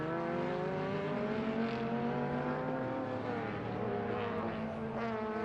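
Vintage race cars in an SVRA race at Sebring pass on the last lap, their engines making a continuous loud drone with rising and falling harmonic whine as several cars go by, with no talking.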